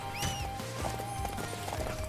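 Rhythmic clip-clop of a horse galloping in the video game Samurai Warriors 5, quick repeated hoofbeats with a short whinny near the start, clear and close.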